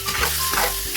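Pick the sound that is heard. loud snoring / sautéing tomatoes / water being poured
sautéing tomatoes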